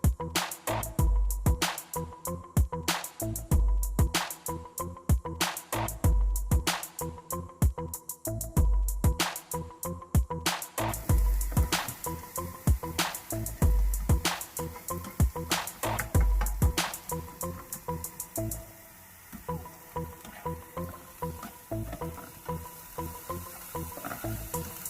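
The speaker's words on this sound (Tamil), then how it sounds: "அதில் நான் வெங்காயத்தை நல்லா வதக்கி எடுத்து வச்சுக்க போகிறேன்." Onions sautéing in a pan for a stuffed mushroom omelette, a continuous close sizzle with rapid, regular clinks and scrapes of a utensil stirring throughout, no voices.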